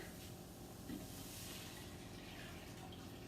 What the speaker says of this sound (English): So now I just want to add in my water.